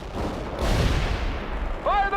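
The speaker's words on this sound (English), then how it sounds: "Mortar strike completed." Mortar strike explosions in the World in Conflict war game, a heavy, rumbling boom that fills the short moment with a brief voice over it near the end.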